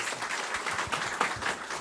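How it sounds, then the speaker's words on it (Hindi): A talk-show audience on women's safety gives a brief burst of clapping. The applause is soft, dense and a little distant, and lasts under two seconds. "जोरदार तालियां"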